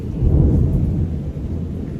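A short, deep rumble of thunder rolls through with a low, heavy roar that swells and then slowly eases.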